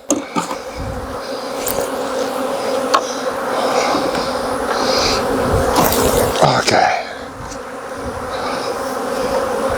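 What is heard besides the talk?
honeybees buzzing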